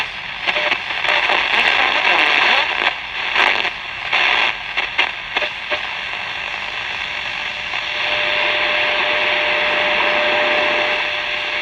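Shortwave reception of the WWV time signal station at 10 MHz on a vintage Ross transistor radio: hissy static with intermittent bursts and crackles, then a steadier hiss carrying a faint tone.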